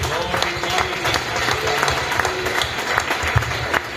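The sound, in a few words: congregation clapping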